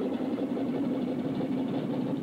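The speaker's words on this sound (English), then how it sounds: "Start right engine?" Aircraft right engine spooling up during start, a steady continuous hum with a strong low tonal drone, loud and unbroken throughout with no talk.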